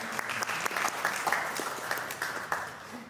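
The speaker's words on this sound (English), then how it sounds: "Give a round of applause." A lecture audience gives a short, lively burst of applause, many hands clapping together at close range for about three seconds.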